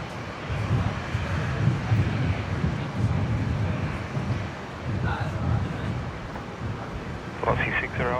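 An airplane landing at Brisbane International Airport: a broad, distant rumble heavily mixed with outdoor wind buffeting the microphone, with brief voices near the end.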